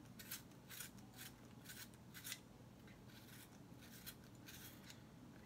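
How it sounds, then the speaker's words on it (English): A graphite pencil is sharpened while shading a marble rendering, giving a run of short, dry rasping scrapes in quick repeated strokes, close and fairly quiet, with no talking. "Gotta sharpen my pencil here."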